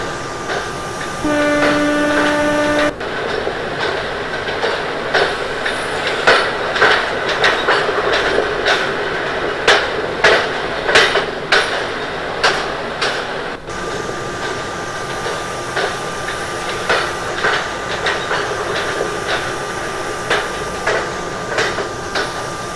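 Simulated Indian intercity superfast express train running in the MSTS Open Rails game, with steady rolling rumble and a rapid series of loud clickety-clack rail-joint knocks, plus a sustained horn-like tone near the start.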